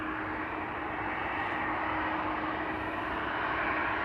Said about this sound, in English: KLM flight 1583 to Lisbon, 737-800.